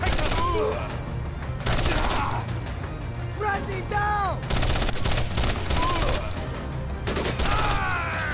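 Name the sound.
gunfire in Code of Honor 3 video game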